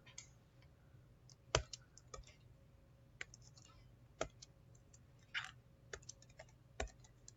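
A computer mouse clicks in a quiet room, faint irregular single and double clicks spaced across several seconds with little else around.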